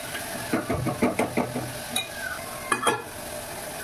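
Onions and tomatoes deep-frying in a pan, a run of quick rhythmic spatula clatters against the metal over a steady sizzle, then a few louder scattered scrapes, all close and without speech.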